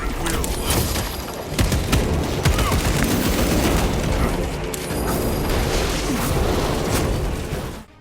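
Gunfire and explosions in the Warhammer 40K video game Space Marine 2, a dense, continuous barrage of bursts and booms with no break until it cuts off at the end.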